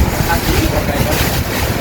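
Strong wind gusts roar steadily across the microphone outdoors, a dense, continuous rushing noise with no pauses and no one talking.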